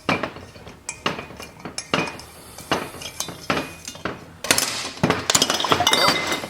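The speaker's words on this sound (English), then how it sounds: "Knocking over jars." Glass jars topple on a workbench in an auto repair shop, giving a series of sharp clinks and clattering knocks. They come in irregular bursts, with a denser, louder jumble of rattling glass near the end.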